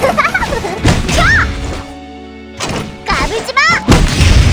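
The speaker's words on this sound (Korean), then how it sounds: "내가 땅땅땅 내리치면 모두가 터덕당 하고 대폭발하거든" Heavy smashing blows and a burst like an explosion from the Epic Seven video game, several sharp crashing hits in quick succession, with a female character's voice speaking loudly over and between them.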